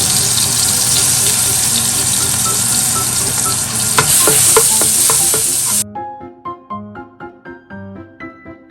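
Garlic and preserved cabbage sizzle loudly in a hot wok, a dense crackling hiss that suddenly cuts off, leaving a series of light metallic clinks.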